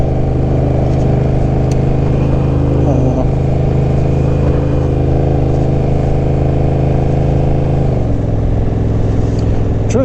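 Honda Rebel 1100 DCT motorcycle on the road, its engine humming steadily and close throughout, with the pitch dropping briefly near the end. A rider talks over the engine.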